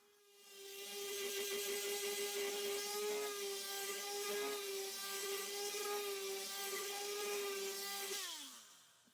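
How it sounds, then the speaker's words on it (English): A power sander whines steadily on the wooden legs of a butcher's block being refurbished, a loud sustained motor tone holding for about seven seconds before spinning down. "I decided to detach everything from the top and sand each piece down individually, starting with the legs."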